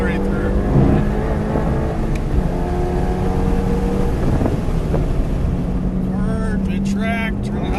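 A car pulls hard around a race circuit during an SCCA time trial, its engine droning steadily and loud up close from start to finish with someone talking over it.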